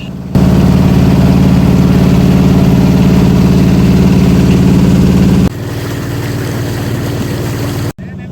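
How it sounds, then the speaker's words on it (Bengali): A motorized river trawler departs on a trip to a river char, its engine a loud, steady low drone that runs throughout and shifts in tone partway through. "অবশেষে আমাদের কাঙ্ক্ষিত ট্রলারটি ছেড়ে দিল"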